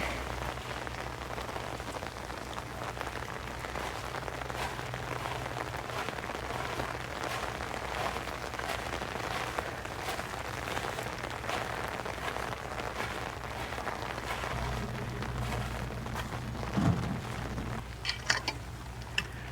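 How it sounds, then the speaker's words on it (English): Light rain patters steadily on surfaces, an even wash of drops with a few louder taps near the end and no voices. "all we got is this steady light rain"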